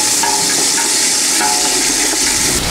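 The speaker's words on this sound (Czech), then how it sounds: "Cibulku si hezky zarestuju." Onions fry in a pan with a steady, close, hissing sizzle and faint stirring scrapes, unbroken for under three seconds.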